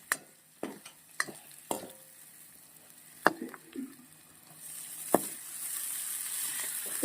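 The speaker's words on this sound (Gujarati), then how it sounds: "કચરા પીસવાના સિંગદાણા સાથે આપણે સાબુદાણા નાખી દઈશું।" Sabudana (sago pearls) with crushed peanuts stirred in a pan for sabudana khichdi: a series of distinct spoon scrapes and clinks near the mic, then a steady soft sizzle filling the background toward the end.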